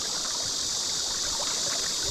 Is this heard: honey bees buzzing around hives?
no